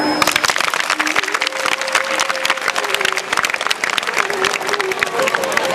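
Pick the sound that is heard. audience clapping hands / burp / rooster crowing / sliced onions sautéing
audience clapping hands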